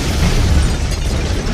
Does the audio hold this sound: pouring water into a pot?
no